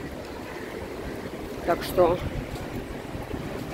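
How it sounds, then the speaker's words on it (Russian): Strong wind buffets the microphone in a Dubai street, a steady low roar with gusts that swell briefly, while a person talks over it. "сейчас ветер почему-то сильно дует"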